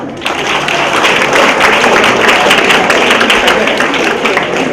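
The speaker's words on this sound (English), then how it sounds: "Now clap properly." Students at a youth leadership awards ceremony clapping together, a loud, close, sustained burst of many hands that starts abruptly and holds steady throughout.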